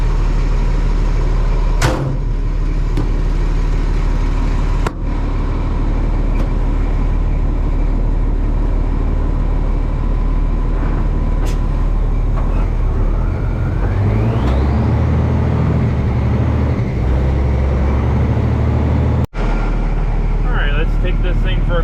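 A 5-ton M51 6x6 military dump truck's engine runs loud and close with a constant deep rumble, with a gear whine rising midway and a few sharp clunks from the cab.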